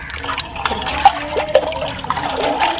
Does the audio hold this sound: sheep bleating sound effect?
no